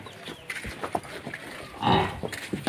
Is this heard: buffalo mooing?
yes